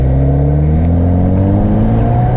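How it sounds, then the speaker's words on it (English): A 2017 Mazda CX-5 engine revs loudly and steadily, its exterior exhaust note rising in pitch as it climbs through the revs, close by and continuous. "I want to show you also the exterior exhaust note."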